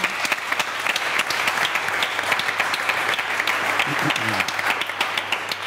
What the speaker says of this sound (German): das ist auch ein kleiner Applaus nochmal